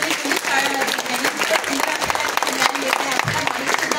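An audience at an agricultural economics conference gives a short burst of dense applause that fills the moment at full volume.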